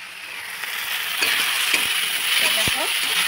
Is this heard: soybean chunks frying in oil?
yes